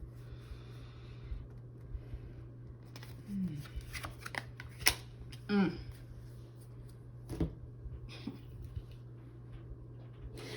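Tarot cards being shuffled for a reading, a soft papery riffle with several brief louder bursts over a low steady hum, close and fairly quiet.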